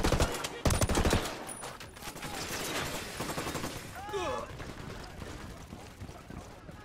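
Sniper and other gunfire in Ghost Recon Wildlands, a cluster of sharp loud shots early on followed by rattling, scattered fire and commotion, with someone talking over it.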